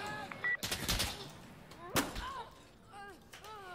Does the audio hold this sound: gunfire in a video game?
yes